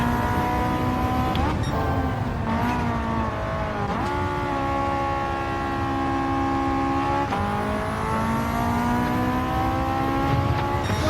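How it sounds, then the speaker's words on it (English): Race car engine in the Gran Turismo 7 video game, a steady loud drone through the whole stretch, with sharp pitch drops at gear shifts and rising revs as the car accelerates along the track. "This car is such a pleasure to drive"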